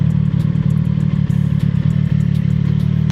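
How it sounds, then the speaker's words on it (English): A CFMoto 675SS motorcycle engine rumbles steadily and close up as the rider downshifts while slowing for a red light, with a low, even drone and faint rattly clatter on top. "And then seeing it's red, so it's downshifting."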